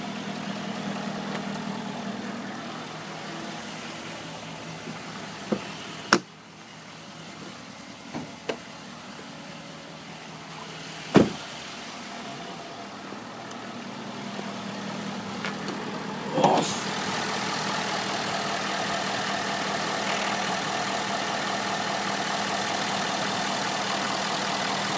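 Diesel idle of a 2011 Ford F250 Super Cab 4x4 with the 6.7 litre engine, a steady low rumble held throughout, broken by a few sharp knocks and a brief louder surge near the end; no one speaks.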